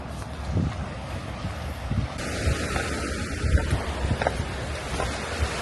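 Sea waves and wind at the beach at Ao Thong in Prachuap Khiri Khan: a continuous windy rush with soft surf washing underneath, buffeting the microphone throughout.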